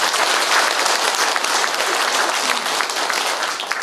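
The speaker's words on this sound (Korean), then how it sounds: "고맙다는 박수로 인사를 안 하십시오." An audience at an anniversary ceremony for a veterans' association in Busan gives a dense, sustained round of applause. The clapping is steady and loud throughout, with no pauses.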